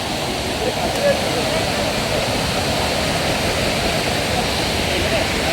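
Buda waterfall on a forest river, reached on a jungle trek: a loud, steady rushing roar of falling water, close by and unbroken throughout.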